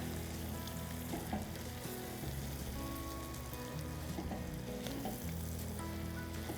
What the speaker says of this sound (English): And now we just want to stir this all up.